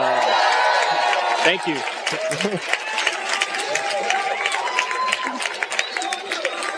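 Audience at a political panel on socialism cheers and applauds a panelist, a broad steady wash of clapping and cheers running throughout while someone speaks over it.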